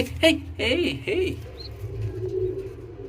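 Soft, low coos from king pigeons repeat a few times close by, mixed with brief voices and light background rustle.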